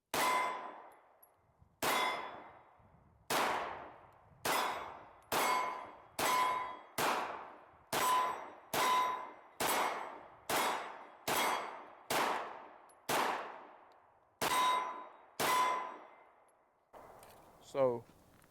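A Bul Armory Axe Cleaver pistol fires about fifteen shots at a steady pace outdoors on a range, each a sharp report with a ringing metallic clang from the struck target, followed by brief clattering at the end.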